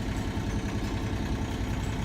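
A sailboat's engine idles at around 1,000 rpm while warming up, a steady, continuous low rumble with even vibration throughout and no talk over it.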